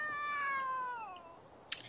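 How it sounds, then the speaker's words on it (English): Stray cat in The Sims 3 life-simulation game giving a single long, drawn-out meow that slides downward, followed by a brief click, with no talk. "There's a cat."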